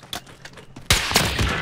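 Gunfire in Warzone: a heavy, loud burst of rapid shots erupts partway through and continues to the end, following faint scattered noises.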